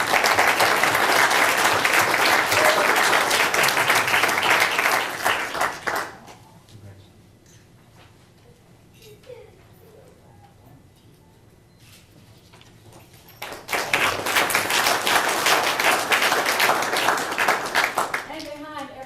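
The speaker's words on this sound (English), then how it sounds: "Can we please give the principals a round of applause?" A board meeting audience gives loud, sustained applause, which dies down to a quiet lull with faint talk before a second burst of clapping swells up just as strongly.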